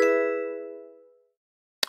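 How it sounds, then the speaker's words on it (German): A single bright notification chime for new followers rings out and fades over about a second, followed by a short, sharp click after a pause, with no talking. "Und es klingelt wieder."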